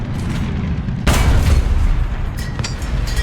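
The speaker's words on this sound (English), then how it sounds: "And with the follow-up shot, we do knock out his cannon barrel and make his breach red." A tank cannon fires a follow-up shot in War Thunder's ARL-44 gameplay, a single loud, close boom that hits abruptly and rumbles on under engine noise and distant battle sounds.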